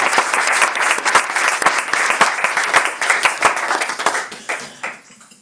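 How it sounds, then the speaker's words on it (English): An audience at a Krishna Katha evening at Bhakti Gardens gives a warm round of applause, dense steady clapping close up that thins out and fades near the end. "Give him a warm round of applause."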